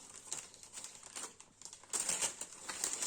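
A plastic pouch crinkling while a bag from a luggage boutique is unboxed, close rustling and crackling in bursts that grow louder and denser in the second half.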